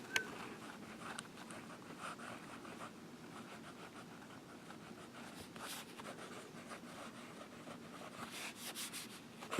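A fine-nibbed vintage Waterman 748 fountain pen moves across paper in a soft, close scratch, with short strokes and pauses in a quiet room, and no one speaks.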